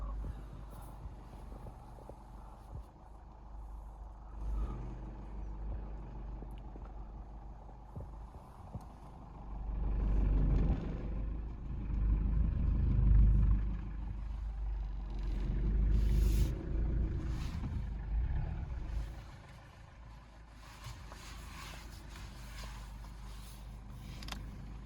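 A Toyota Fortuner pulls out and turns through a residential family-quarters area, its quiet engine rumble swelling for several seconds midway before easing off, heard at low level without talk.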